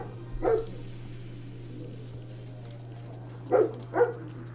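A dog named Luna gives a single bark, then after a pause two more quick barks, fairly close and clear over a quiet steady hum.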